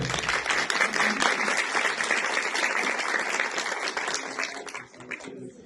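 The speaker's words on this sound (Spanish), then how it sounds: "Brindámosles un fuerte aplauso, por favor." A dense, sustained round of applause from an audience at an International Women's Day discussion event in Chimborazo, steady and full for several seconds before thinning out near the end.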